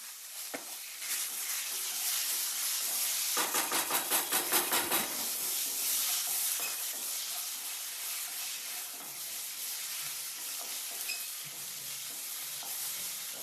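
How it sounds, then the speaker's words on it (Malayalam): Chopped tomatoes hit hot oil in a pan for Kerala chicken curry, sizzling and frying loudly with a burst of rhythmic stirring scrapes partway through, the steady hiss continuing to the end. "ഇനി നമ്മൾ അടുത്തിടാൻ പോകുന്നത് തക്കാളി മതി. തക്കാളി ഇട്ടേക്കാം."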